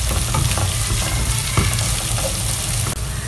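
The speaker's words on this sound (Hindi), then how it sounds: "लहसुन और अदरक ऐड कर लें और इसे मीडियम फ्लेम पर ही तकरीबन 1 से 2 मिनट तक फ्राई कर लें" A steady, loud sizzle of garlic and ginger frying in hot oil over medium flame, with occasional soft clinks and stirring sounds from the pan.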